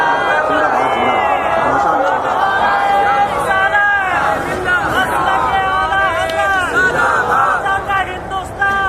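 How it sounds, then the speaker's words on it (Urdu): A large audience at a religious gathering shouts a slogan together, many voices rising and falling in loud, sustained chant-like cries that fill the whole stretch. "آپ لوگوں نے نعرہ تو لگا دیا"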